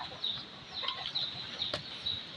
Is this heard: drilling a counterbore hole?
no